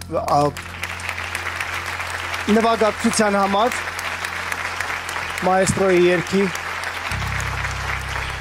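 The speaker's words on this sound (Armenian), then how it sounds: "Ես մոռացա հատուկ ծափահարություններ ուղեմ Կարեն Անանյանին" A studio audience at a televised pop singing contest claps in brief bursts, with a person speaking between and over the applause.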